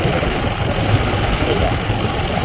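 Fishing boat engines idle at Paradip harbour in Odisha, a low, steady rumble running continuously at moderate distance, with a voice talking over it.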